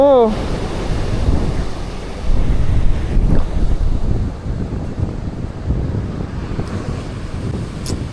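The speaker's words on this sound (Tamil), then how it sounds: "அங்கே ஒரு பெரிய அலை வருது, அங்கே பாருங்க." Large ocean waves surge on Kollam beach under heavy wind buffeting the microphone, a broad rushing roar swelling and easing throughout, loud and close.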